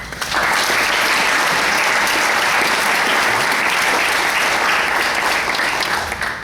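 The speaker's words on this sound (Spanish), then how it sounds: "Un aplauso." An audience at a lecture event breaks into loud, sustained applause, a dense, steady wash of clapping that rises quickly and holds for several seconds, with no speech over it.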